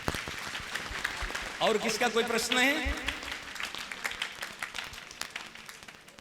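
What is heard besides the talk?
school audience applause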